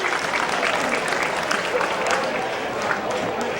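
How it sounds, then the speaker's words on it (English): A crowd at a county fair demolition derby applauds the kids who drove Power Wheels, dense clapping from many hands that holds steady at moderate volume, with faint voices mixed in. "How about a big round of applause for all those Power Wheel drivers out there"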